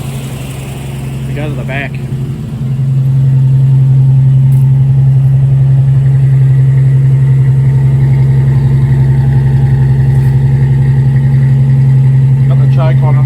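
A 1964 Ford Falcon Futura engine runs close by on choke, a loud steady drone that swells as it picks up revs and then holds even, with someone talking briefly over it.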